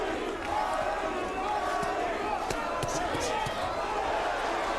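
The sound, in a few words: boxing crowd cheering for Arturo Gatti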